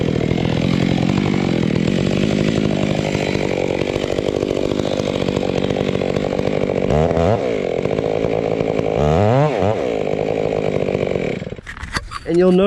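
Chainsaw cutting into a large tree trunk while felling with a double cut, loud and steady throughout with a couple of brief pitch dips, then cutting off near the end.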